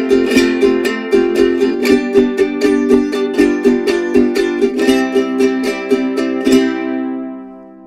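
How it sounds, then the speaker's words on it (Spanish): Jarana, a small five-string Mexican guitar with some doubled strings, strummed in a steady rhythmic pattern of bright chords, loud and close with no voices, ending on a ringing chord that fades out. "En México, el jarabe y el zapateo jarocho se tocan con jarana, pequeñas guitarras de 5 cuerdas,"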